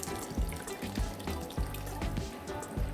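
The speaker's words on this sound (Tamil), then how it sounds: "இப்போ நல்லா வெந்த அப்புறமா நம்ம புளி தண்ணி ஊற்றிக்கலாம்." Tamarind water pouring into a simmering banana stem and drumstick gravy, a continuous splashy trickle with small irregular plops and drips, close and fairly quiet, no talking.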